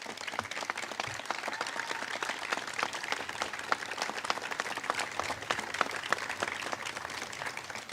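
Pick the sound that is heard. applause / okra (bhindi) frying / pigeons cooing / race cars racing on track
applause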